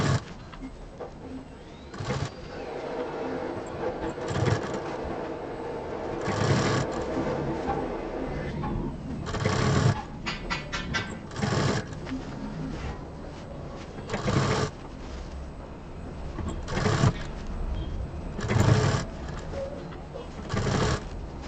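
A sewing machine stitches piping onto the outer edge of a fabric bag, running in repeated bursts of rapid mechanical clatter that start and stop between short pauses, close and fairly loud, with no talk.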